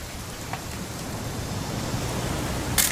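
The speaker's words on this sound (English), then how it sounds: "It's gonna rain the whole weekend, isn't it?" Steady rain falls in the video game What Remains of Edith Finch. It makes an even, continuous hiss with a few scattered drop ticks and no one speaking.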